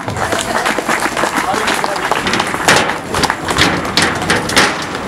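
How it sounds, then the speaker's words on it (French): Outdoor crowd applause for the Cherco Academy staff at a French championship enduro event in Villebret, scattered clapping and thumps mixed with loudspeaker announcer talk and background crowd noise. "vous pouvez applaudir le staff Cherco Academy"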